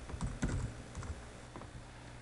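Typing on a computer keyboard, a quick run of soft close key clicks in irregular bursts over a low background hum.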